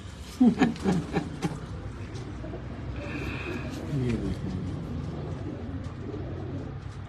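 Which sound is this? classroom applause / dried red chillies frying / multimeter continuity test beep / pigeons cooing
pigeons cooing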